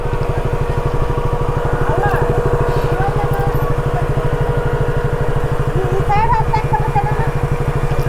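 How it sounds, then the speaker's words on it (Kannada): Motorcycle engine idling nearby with a steady, rapid low putter, running continuously throughout under a few faint background sounds. "ಬೈಕ್ ಇಲ್ಲೇ ಸೈಡಲ್ಲಿ ಹಾಕಿರ್ತೀನಿ."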